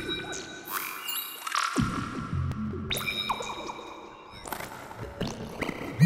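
Strange synthetic tones from the Massive synthesizer sweep and chirp, with sliding pitches, sudden cutoffs and bursts of glitchy noise, fairly quiet and with no voices.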